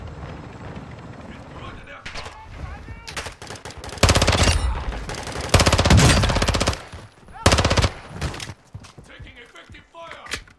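Gunfire in the Warzone 2 video game comes in heavy automatic bursts and sharp single shots, loud and up close, with players talking excitedly over the shooting.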